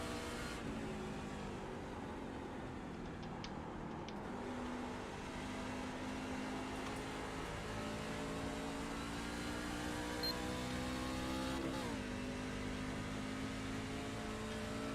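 A race car engine in a NASCAR racing video game at Gateway drones steadily at high revs, its pitch shifting as the car downshifts, a continuous close mechanical whine with no talk.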